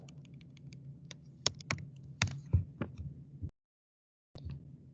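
Computer keyboard typing during entry of programming code, irregular bursts of clicky keystrokes, close and fairly clear, stopping briefly into silence before a few more keys resume.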